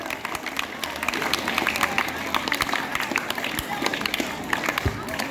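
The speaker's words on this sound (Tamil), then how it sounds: "பலத்த கைத்தட்டலுடன் வருக வருக என வரவேற்பு" An audience at a government school ceremony in Panapakkam, honouring students with top public-exam marks, claps steadily as a crowd, with loud, dense applause throughout.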